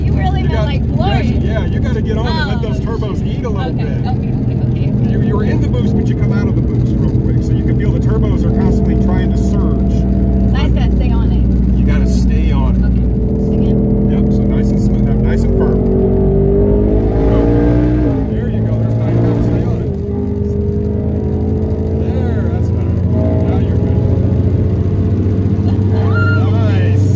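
A 1000+ hp twin-turbo Ford Mustang engine roars loud and close as it accelerates under boost, its pitch climbing through gear changes across the whole stretch while people talk inside the cabin.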